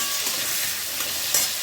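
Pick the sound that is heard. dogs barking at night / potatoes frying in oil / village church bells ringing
potatoes frying in oil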